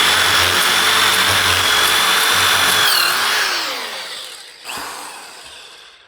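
A Hilti power drill bores steadily into a concrete block foundation wall between grout lines, a loud, close, continuous grinding whine that slows and trails off toward the end.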